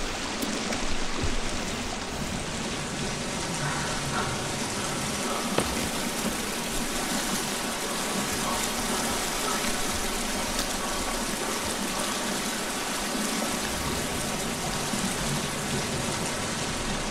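Water rushes continuously through a very wet cave named Waterfall in the survival game The Forest, a loud, steady broadband gush that keeps an even level throughout with no voices.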